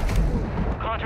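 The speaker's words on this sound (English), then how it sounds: "Bob, get ready to throw that airstrike." Airstrike explosions rumble in Call of Duty Warzone on Rebirth Island, a short, dense burst of booming blasts with heavy low-end thud over about a second.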